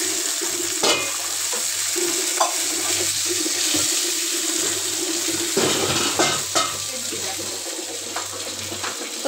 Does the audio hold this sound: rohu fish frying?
yes